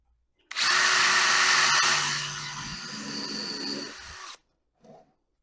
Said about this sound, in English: So, pre-drill a couple holes.